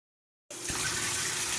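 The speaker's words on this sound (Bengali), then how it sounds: "তো ভালো করে একটু ধুয়ে ফেলে নিচ্ছি" Food is rinsed under a running tap: after a moment of silence, water starts gushing and keeps flowing steadily, close and fairly loud.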